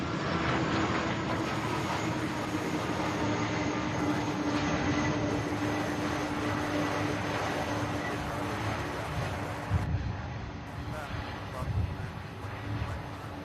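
A UPS aircraft lands at Louisville's SDF airport, its engine roar a broad, steady rumble heard from a distance, with some bumps in the noise toward the end.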